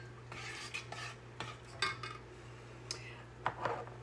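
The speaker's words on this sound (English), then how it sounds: "we continue to stir while we're going" Golden milk made with turmeric and black pepper is stirred in a pot, with soft scraping and scattered light clinks of a utensil against metal over a faint steady hum, quiet and close.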